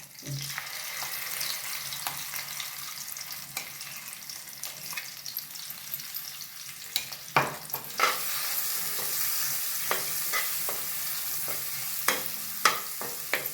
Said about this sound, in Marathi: याचा तेल सुटेपर्यंत चांगली खमंग भाजायची परतायची